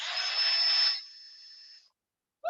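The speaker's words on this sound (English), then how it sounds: "put the drill just lightly on here. It's going to make a little bit of noise" A small drill bores into half an eggshell, a steady high whirring buzz for about a second that eases lower before stopping, close up, followed by a brief tap.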